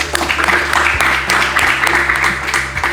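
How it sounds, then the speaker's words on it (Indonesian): A crowd claps steadily in sustained applause for a group presentation, loud and close, with a low hum underneath. "Sekali lagi kita beri tepuk tangan untuk kelompok 1."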